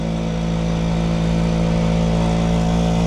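Kawasaki motorcycle on the road, its engine a steady close droning hum with harmonic tones held at a constant level for a few seconds, no talking.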